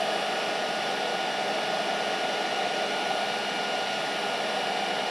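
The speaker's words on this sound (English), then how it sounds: "we'll get the heat gun and go on that, and we'll shrink her out" A heat gun on its low setting blows hot air to shrink loose fabric, a steady, even hiss-like whoosh that holds constant at moderate level with no pauses.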